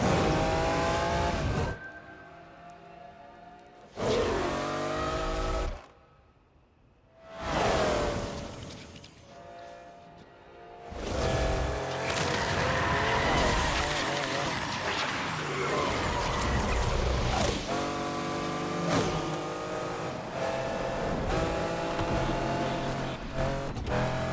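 Race-car engine in Need for Speed Unbound revving hard and accelerating through repeated rising bursts, with a short quiet gap before sustained, loud full-throttle roaring and a faint tire squeal.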